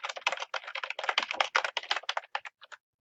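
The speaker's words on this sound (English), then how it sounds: "You can go ahead and type in your research question." Fingers type on a computer keyboard in quick close bursts of clicking keystrokes, a dense run that thins out and stops near the end, with no voices.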